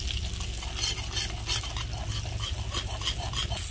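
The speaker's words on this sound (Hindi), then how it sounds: "अब सूजी अच्छी तरह से हम भून लेते हैं।" Semolina roasting in desi ghee in a pan for halwa, a continuous close sizzle with dense scraping stir strokes throughout, steady and moderately loud.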